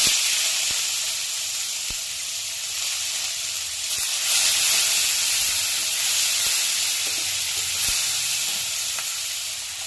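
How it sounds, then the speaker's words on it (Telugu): Onions fry in a pan with a steady, loud broadband sizzle and hiss through the whole stretch, broken by a few sharp clicks of a utensil, with no voices. "ఉల్లిపాయలు బంగారు రంగులోకి వచ్చినంత వరకు వేయించుకోవాలండి"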